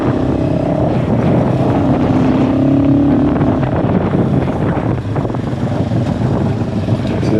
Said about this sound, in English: It's a lot of wind.